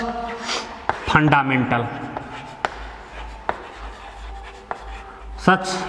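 Marker or chalk scratches out strokes on a classroom board during an engineering mechanics lesson, short squeaky taps and scrapes in bursts while a teacher talks.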